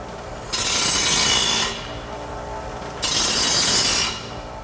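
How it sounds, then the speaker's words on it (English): A grinder cleans up the cut edges of an exhaust pipe for a Ford F-150 Roush single exhaust system in two loud bursts of rasping, hissing grinding, each lasting about a second, with a lower hum between them. "we can go ahead and clean up the edges. So I'm over here at our grinder"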